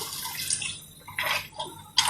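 Water poured from a glass into a cooking pot on a high gas flame, heard as short splashy bursts and trickles, close and fairly quiet.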